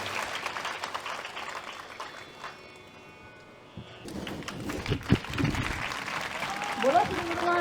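Applause breaks out at an outdoor religious gathering at Chak Malal near the Jammu and Kashmir border, a dense clapping wash rising after a quieter stretch and swelling loud to the end, with some voices mixed in.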